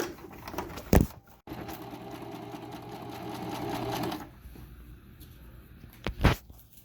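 Home sewing machine stitching handmade fabric piping, a steady close mechanical whir running for several seconds with sharp knocks near the start and end, then a quieter, thinner hum after it slows.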